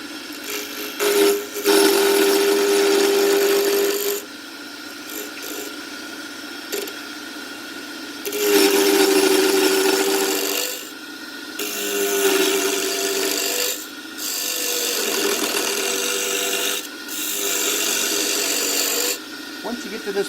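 A wooden pen blank spins on a wood lathe while a cutting tool rasps and scrapes against it in loud, sustained bursts broken by short pauses.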